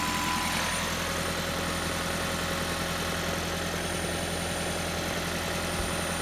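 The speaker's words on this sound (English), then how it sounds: "You can hear the compressor running." The air conditioning compressor of a Toyota Prius C runs with a steady, close mechanical hum and faint rhythmic knocking that stays constant throughout, no voices present.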